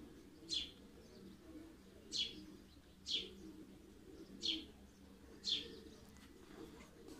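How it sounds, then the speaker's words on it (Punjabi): Pigeons coo in five evenly spaced, short calls about a second apart, faint and somewhat distant over a low background hum, with no talking. "ਸੱਤ ਕਬੂਤਰ"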